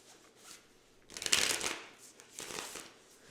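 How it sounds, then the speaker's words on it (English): Close, crisp riffle shuffling of a tarot card deck, two distinct bursts of papery flapping with a short pause between, no voices. "Just gonna do a couple shuffles."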